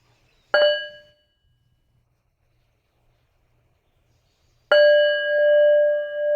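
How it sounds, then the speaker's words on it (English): A bell struck twice, each a loud clear metallic ring with bright overtones, the first decaying quickly, the second sustaining and pulsing through a long fade in an otherwise quiet room. "Let us listen to the sound of the bell first."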